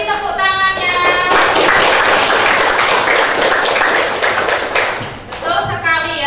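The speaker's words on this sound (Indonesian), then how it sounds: "Ya, beri tepuk tangannya." Audience applause during a classroom presentation on economic activity, a dense wash of clapping filling several seconds alongside a speaking voice, tapering near the end as talk resumes.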